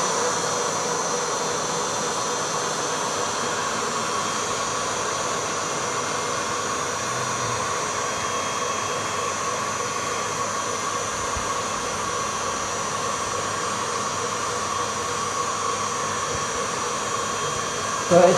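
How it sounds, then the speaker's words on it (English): An electric mixer whisking butter into tea-cake batter with a continuous, even whirring hum that stays close and steady throughout, no one speaking over it. "So this has to whisk for"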